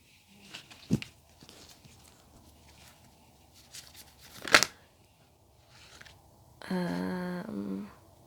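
Tarot cards being handled and shuffled, with a few soft isolated riffles and taps over a quiet room, then a brief denser shuffling burst near the end, no talk.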